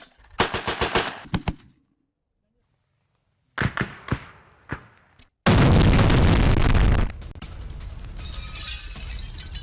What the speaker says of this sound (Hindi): AGS-17 से यूक्रेनी ठिकानों पर हमला। यूक्रेनी ठिकानों पर ताबड़तोड़ फायरिंग।